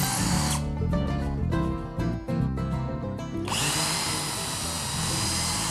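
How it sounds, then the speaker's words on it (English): A power drill drives screws into a wooden workbench section being built as a potting bench, giving a loud, steady motor whine for about three seconds between bursts of surrounding shop noise. "Mel and I attach it with screws, making sure the screw heads are at or slightly below the surface"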